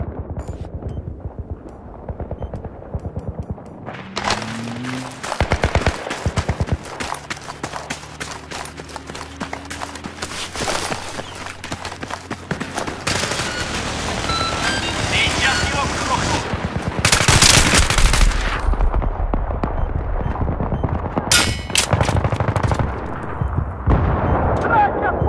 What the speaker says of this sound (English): Someone's trying to shoot you, Scritch.